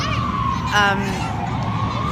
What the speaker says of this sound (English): there's a siren that started as soon as I hit start, and it hasn't stopped yet